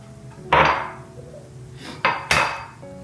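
Two room-temperature eggs dropping into a mixing bowl that already holds sugar give sharp clunks and taps against the bowl, one near the start and two close together later, with nothing else sounding.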